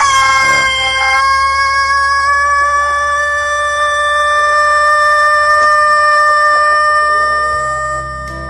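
A rooster crows loudly and close, one long sustained call held across the whole stretch, with hens clucking faintly underneath and no talk.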